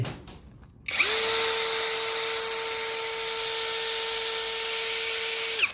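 A MASARU power drill with a spade bit spins up abruptly and bores with a steady high whine and grinding rasp, holding constant for several seconds before cutting off.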